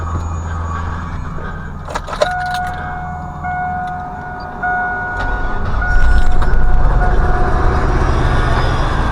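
A vacuum-evacuation pump's engine is restarted and runs steadily, a loud low rumble with a sustained whine, occasional clanks and a heavier surge toward the end.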